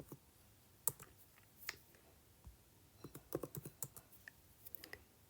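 Quiet typing on a computer keyboard, a few scattered key clicks at first and then a quicker burst of taps, close but faint, no talk.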